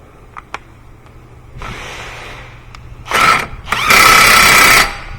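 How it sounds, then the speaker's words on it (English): Power tool tightening the rear wheel axle nut on a 2015 Subaru Forester AWD during a rear wheel bearing replacement: two loud whirring bursts in a garage, a shorter one followed by a longer sustained run, after light clicks. "I'm gonna go ahead and lock that axle nut down."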